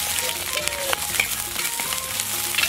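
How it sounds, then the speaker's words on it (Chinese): Scallion, ginger, salt and vinegar hit hot rapeseed oil in a wok, giving a loud, steady crackling sizzle that stays dense throughout. "油热倒入葱姜盐醋"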